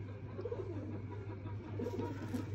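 Pigeons in a loft of prized show birds coo softly and steadily, faint and somewhat distant, with low murmuring calls repeating throughout.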